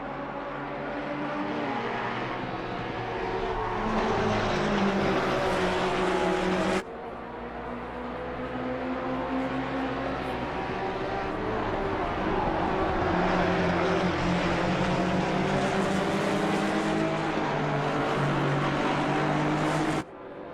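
Ginetta and McLaren race cars lapping the Kyalami circuit, a continuous engine roar with rising and falling pitch as cars pass and shift, steady and loud throughout with a brief cut partway.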